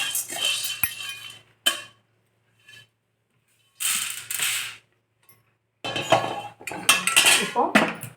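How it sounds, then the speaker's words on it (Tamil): Chana dal is dry-roasted in a pan without oil, giving loud close bursts of rattling and metallic scraping separated by short silences. "எண்ணெய் விடாமல் தான் வறுத்துருக்கோம்"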